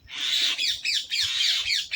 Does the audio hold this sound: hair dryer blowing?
no